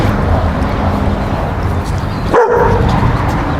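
A dog barks amid a constant, loud background din, with one sharper yelp standing out near the end.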